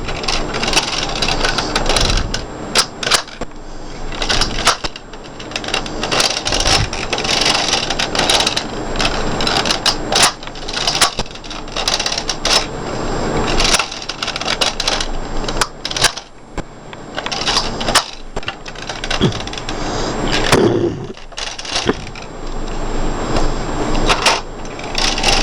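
Knitting machine carriage working stitches, giving repeated clicking and rattling passes of varying loudness with brief pauses between them.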